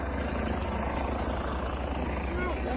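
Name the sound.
helicopter flying overhead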